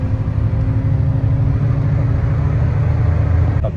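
A coach bus on an overnight road trip in Thailand pulls away, its engine producing a steady, loud low rumble and drone that continues throughout without talk.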